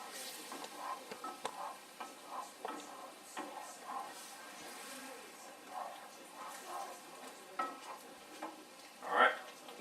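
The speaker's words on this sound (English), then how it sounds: "I'm going to scrape the bottom. Get all that good stuff off the bottom there." Faint sizzling of chicken frying in a pan, with intermittent scraping and stirring strokes against the pan bottom and a brief metallic clink near the end.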